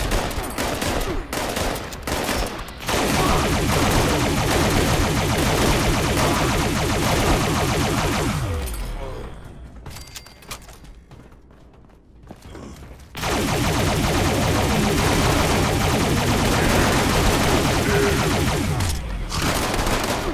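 Auto rifle gunfire in Fallout 76, long loud bursts of rapid automatic fire broken by short pauses and a quieter stretch midway before the firing resumes.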